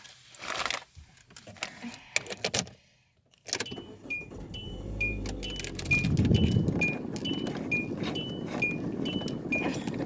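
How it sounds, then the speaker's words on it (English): A car engine cranks and catches after a brief pause, settling into a steady idle, with a repeating high chime ringing over it. "Let me turn the car on."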